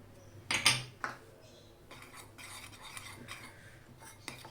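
Utensils scrape and clink against a bowl of dry chocolate brownie ingredients in a few quick bursts, followed by softer rubbing and stirring sounds, close and fairly quiet.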